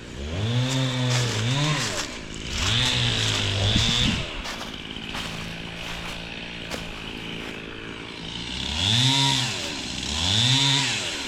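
Chainsaw cutting fallen tree limbs into smaller pieces, loud and close, the engine revving up and dropping back in repeated bursts with a lower idle stretch between cuts.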